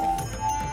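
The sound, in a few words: temple bell ringing at Shiv temple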